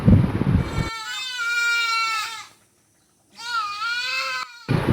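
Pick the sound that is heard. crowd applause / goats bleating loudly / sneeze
goats bleating loudly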